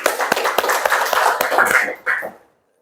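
A small group of students claps in a classroom during a civics lesson, a brief burst of fairly close, uneven hand claps lasting about two seconds before stopping abruptly.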